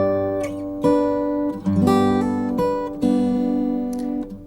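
Steel-string acoustic guitar plays the second part of "Spanish Fandango" high up the neck, an octave above, with plucked notes ringing and sustaining in a steady melodic line, close and clear with no talking.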